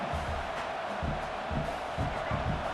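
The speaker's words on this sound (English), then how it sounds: "this home crowd is fired up and ready to make a difference today" A home crowd in the College Football 25 video game, Michigan at Oklahoma, roars as a constant, dense stadium wash of cheering with faint rhythmic swells underneath.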